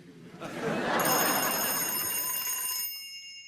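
A novelty frog telephone's electronic ringer trills continuously for a couple of seconds, bright and fairly close, then cuts off.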